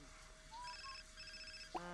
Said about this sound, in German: Von wem klingelt denn hier das Handy?